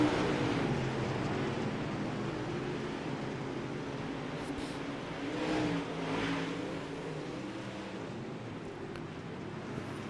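UMP modified dirt-track race cars in a B main event pack closely together as they race, giving a steady distant engine roar with swelling passes and a broad, washy background.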